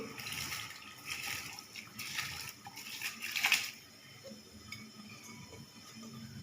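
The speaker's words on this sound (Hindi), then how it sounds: "पानी में उबाल आ चुका है। अब मैं इसके अंदर चावल शामिल कर रही हूँ।" Rice goes into a pot of boiling water for a Punjabi jaggery sweet rice dish. A rushing splash and bubbling lasts about three seconds, then settles into a quieter simmer with faint clinks and no speech.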